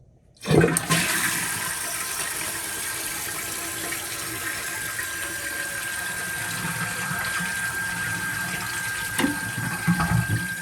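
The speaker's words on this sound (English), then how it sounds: "Now we're going to test flush and see how it works." A toilet fitted with a new Fluidmaster universal fill valve flushes with a loud rushing burst of water, then settles into a steady draining and refilling hiss that continues throughout.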